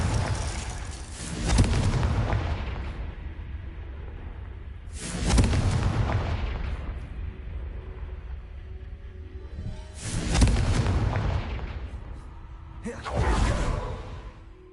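Confringo blasting-spell explosions in the Hogwarts Legacy video game: four booming whooshing blasts spaced a few seconds apart, each a sharp loud burst that fades quickly, with faint ambient game sound between them.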